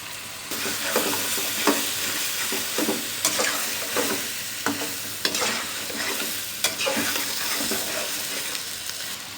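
Four large chopped tomatoes go into sizzling biryani masala and are stirred, a loud close sizzle with repeated scraping spoon strokes throughout.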